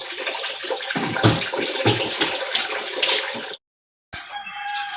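Water runs steadily from a tap or hose into a basin, splashing and gurgling for several seconds with uneven surges, then stops briefly before a quieter trickle resumes; no talk over it.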